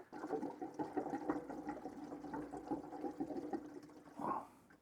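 Diesel fuel pours into the tank of an 8 kW diesel heater, a steady liquid gurgle and splash running close by for about five seconds and swelling briefly near the end.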